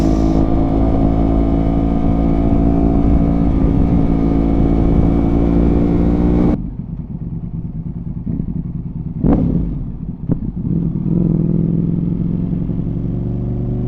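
A 2025 Ducati Panigale V4 fitted with an Arrow exhaust idles and runs loud and close with a steady rich engine drone, then cuts sharply quieter midway, followed by a few brief revs and pops as the engine note returns.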